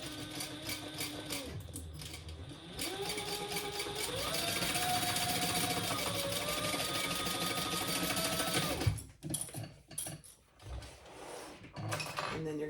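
A sewing machine runs steadily at close range, stitching the side and bottom seams of a fabric tote bag with a rising mechanical whir. It then stops, followed by a few handling clicks and rustles.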